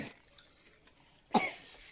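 A single short cough rings out near the end of an otherwise quiet stretch, close and fairly sharp.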